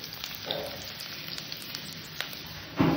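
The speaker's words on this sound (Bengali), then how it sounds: "রসুন আর রাঁধুনি ফোড়ন দিলাম" Garlic and radhuni seeds sizzle in hot oil as a tempering for a kalai greens dish with lata fish, a steady close crackle with a few sharper pops and a louder burst at the end, with no voice.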